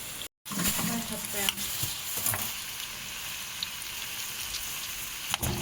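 Onion, garlic and pepper frying together in a pan for a spiced chicken-and-rice dish give a steady, fairly soft sizzle with a few sharper crackles and a brief dropout near the start, and no voices.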